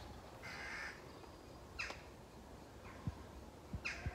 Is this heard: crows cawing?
yes